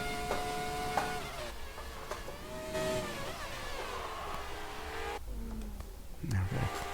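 A race car engine in an F1 esports racing video game climbs and drops in pitch as the throttle is applied and eased, with gear changes and a brief low tire or engine growl near the end, steady and clear with no speech.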